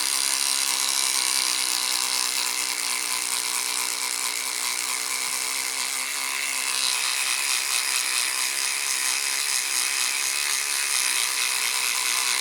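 An electric toothbrush buffing polish on a die-cast Corgi Ghia L6.4 model car part, a continuous close buzzing whir with a faint rhythmic scrubbing texture, steady throughout with no speech.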